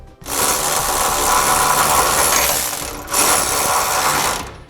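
Bolts being snugged down with a power tool while installing a gooseneck trailer hitch on a 2012 Ram 2500, heard as two loud, steady mechanical whirring runs, the second after a brief pause.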